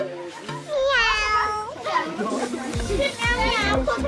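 At a tenth birthday party, a child with a face painted as a cat imitates a meow in two drawn-out, sliding cries, while other children's voices and chatter fill the room around it.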